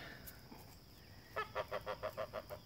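A goose starts honking partway through, a rapid run of about nine evenly spaced, nasal honks, fairly close, over faint outdoor background noise with no voices.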